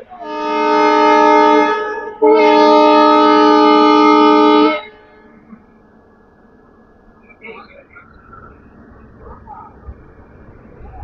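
A passenger train at Theni railway station sounds two long, loud horn blasts one after another, followed by quieter station noise and faint voices.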